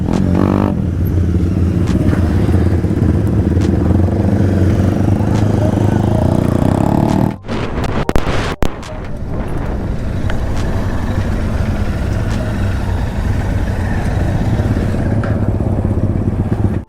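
A GT 650 motorcycle engine runs loud and steady close by in rain, with a brief clattering interruption midway before the rumbling ride continues.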